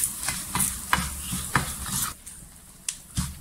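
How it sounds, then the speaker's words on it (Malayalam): Sambar masala paste being stirred and roasted in a pan over a low flame, with repeated scraping strokes and a soft sizzle underneath, close and fairly clear. "ഇനി ഇത് ഇളക്കി ചെറിയ തീയിലിട്ട് മൊരിച്ചിടണം."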